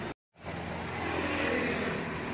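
Cars roll along a street in Taiwan, a steady broadband traffic hum that cuts out for a moment at the start, then returns in a continuous, moderately close wash.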